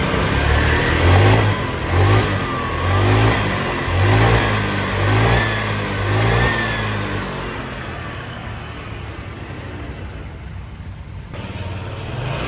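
A Honda Vario Techno scooter engine revs in repeated pulses, rising and falling about every second, then settles into a steady idle hum, close by with no voices.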